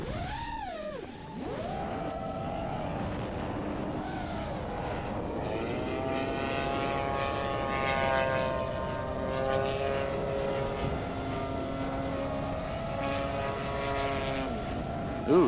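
The 35cc gas engine of a 78-inch Extra 260 model airplane, heard from on board in flight, drones loudly and continuously, its pitch swooping up and down with throttle changes and manoeuvres.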